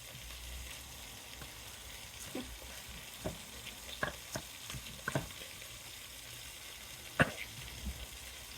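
Beef frying in a pan for chili con carne, a soft continuous sizzle with scattered sharp pops and spits, a louder crackle near the end, close and alone without talk.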